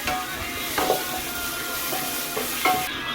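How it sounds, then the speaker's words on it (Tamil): Sliced onions frying with mint and green chillies in a pan for a biryani, a continuous sizzle broken by a few scraping strokes of a stirring spoon. "பெரிய வெங்காயம் நல்லா கிண்டிக்கலாம்."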